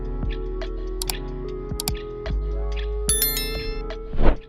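A bright notification bell chimes several times over a low, steady music bed with ticking percussion, ending in a louder swell near the close; no one speaks.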